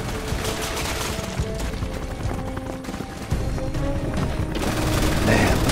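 Rapid bursts of gunfire from BSAA soldiers in the video game Resident Evil 6, a dense, continuous clatter of shots that swells louder near the end, with background voices mixed in.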